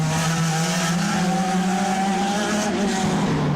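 IndyCar race cars at the 2011 Sao Paulo Indy 300 street race roar past continuously, a loud sustained engine drone with shifting pitch and layered tire and crowd noise, no talk.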